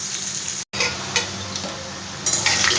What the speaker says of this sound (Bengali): ভালো করে একটু করলাটাকে আমি ভেজে নেবো।